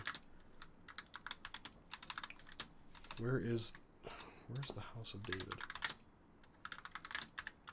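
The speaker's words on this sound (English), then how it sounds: "Still typing." Fast clattering keystrokes come in bursts from a computer keyboard, close and fairly quiet, with pauses where someone speaks over the typing.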